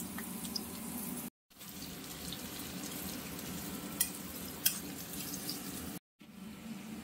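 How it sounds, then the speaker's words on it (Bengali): Chopped onion and cumin seeds frying in oil for palak paneer, producing a steady close crackling sizzle with two brief cuts to silence and a couple of sharp spatula knocks against the pan. "দেবো কুচানো পেঁয়াজ। এবার এটাকে ভালো করে ভাজতে হবে।"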